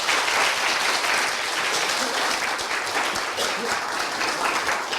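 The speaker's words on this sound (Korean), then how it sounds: "일단 박수부터 주시죠." Audience applause at a Korean traditional music (gugak) concert for the janggu player, a dense, steady wash of clapping filling the hall for the full five seconds, with no pauses and no voices above it.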